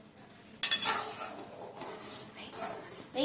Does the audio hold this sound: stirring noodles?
yes